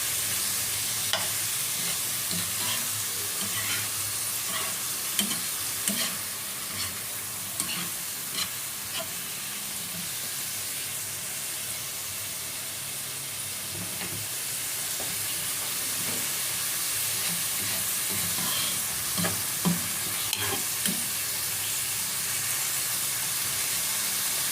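Beef innards sizzle steadily in a hot pan for papaitan, with a constant frying hiss broken by sharp scrapes and clacks of stirring, close and without talk.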